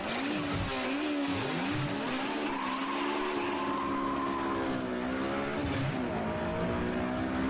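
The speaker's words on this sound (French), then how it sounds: "Ah, ça prend des tours, hein. On va chercher le moteur." A Honda S2000 engine revs hard and climbs high through the gears, a loud rising whine with tire squeal, repeated pulls building and dropping over steady road noise.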